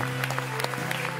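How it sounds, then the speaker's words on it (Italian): A television studio audience applauds, dense steady clapping filling the whole short stretch at moderate loudness. "Un applauso."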